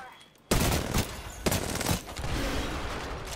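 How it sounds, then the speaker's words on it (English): Rapid bursts of video game gunfire as a player shoots straight down, loud cracks starting abruptly and continuing in several quick volleys, with a voice talking over them. "I'm shooting straight down."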